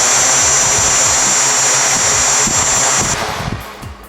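Small STORM Drone inverted quadcopter motors whir up to a loud, steady broadband hum with a thin high whine, then ease off near the end, heard close and alone.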